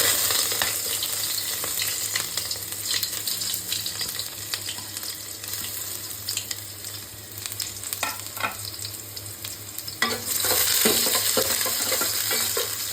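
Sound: onions frying in a hot pot

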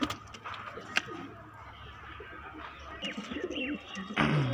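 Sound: Madrasi pigeons

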